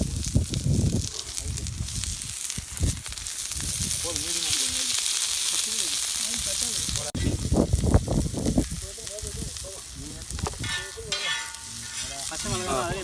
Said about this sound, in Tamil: இந்த வெங்காயத்தை கொஞ்சம் போட்டு வேக விடுமாண்ணா.